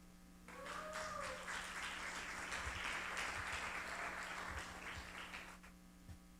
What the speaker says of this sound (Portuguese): Eu não posso ouvir um aplauso?